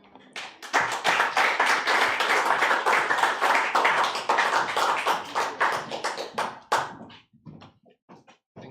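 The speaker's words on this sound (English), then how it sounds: "Round of applause for all our poets" An audience at a poetry reading at a Los Angeles book launch bursts into sustained clapping, a dense, steady roar of many hands close by that thins out into scattered individual claps before fading.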